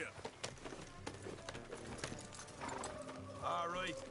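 A horse in Red Dead Redemption 2 breaks into a run, quick clip-clopping hoofbeats driving along with a whinny near the end, over game music and spoken dialogue.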